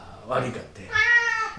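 A house cat gives a drawn-out meow close by, briefly overlapping someone speaking Japanese indoors.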